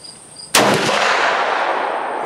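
A single sharp rifle shot from a Marlin 336 lever-action firing a Federal 200-grain load cracks loud and close after a brief quiet, then rings out in a long decaying echo.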